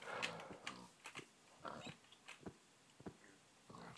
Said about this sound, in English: There's a pig.